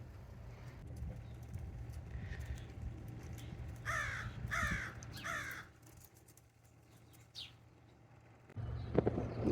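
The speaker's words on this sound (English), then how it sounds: "What are you doing, Crow?" Crow cawing near a backyard chicken coop, a short burst of about three harsh calls in quick succession, fairly loud over a steady low outdoor hum, followed by a thin higher chirp.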